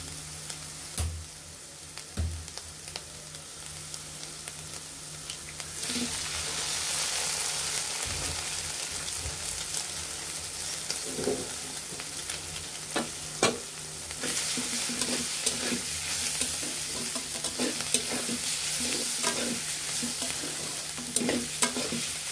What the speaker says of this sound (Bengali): আমরা এখন একটি ডিম ভেঙে দেব।